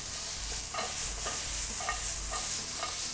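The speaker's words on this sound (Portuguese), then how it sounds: "Aqui, então, a gente salteia a cebola" Onion and two-colour bell peppers sauté in a pan, producing a bright continuous hiss and sizzle with recurring scraping strokes of stirring, near and steady.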